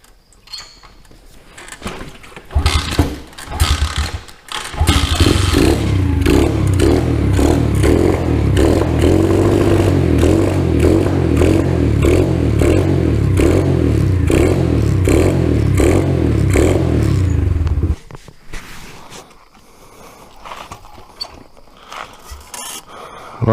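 A cheap Chinese dirt bike engine, started cold after a carburetor repair, runs close by with a loud, steady, rattly idle for about thirteen seconds after sputtering attempts, then shuts off, leaving handling clatter.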